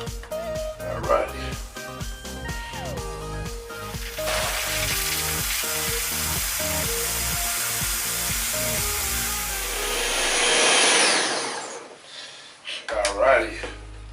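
A blender whirs steadily for several seconds mixing a Carnival Cruise copycat pina colada, its motor noise loud and broadband over background music, rising briefly before cutting off near the end.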